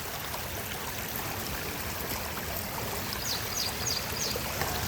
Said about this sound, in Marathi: धबधबा चालू झाला का अंकल? हा धबधबा.